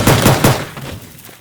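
In the video game Teardown, a pistol fires three or four loud, close shots in quick succession, each with a sharp crack and a short decaying tail.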